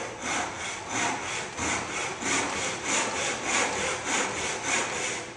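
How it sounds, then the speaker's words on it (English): A hand saw rasps through timber cutting a half lap joint, in steady back-and-forth strokes, about two per second, close and fairly loud with no talking. "let the saw brush against, away from the blade, and proceed to cut"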